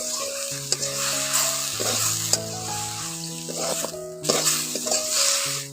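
Spices with cumin and mustard paste stir-fried for a Malabar spinach dish, giving a continuous close sizzle with scraping stirs and occasional light clinks, while a melody plays throughout.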